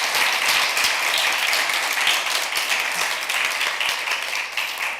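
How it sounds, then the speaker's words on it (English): Sustained applause from a group at a livestreamed talk on democratic decision making, a dense, even wash of clapping with no voices over it. "I was giving them applause"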